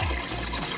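Coconut water pours as the base for a smoothie, a short, soft, steady liquid splash running close by for under a second with no talking.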